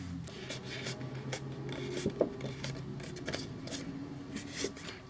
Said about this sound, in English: you should be burnishing all of these, making sure they're well creased